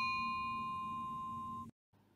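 A bright notification bell ding rings out with a long sustained metallic tone that holds steadily, then cuts off abruptly into silence before a faint hum returns.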